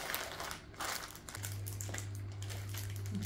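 Plastic vacuum storage bag handled while two blankets are packed into it. Close, irregular crinkling and rustling sounds rise and fall, and a low steady hum comes in partway through.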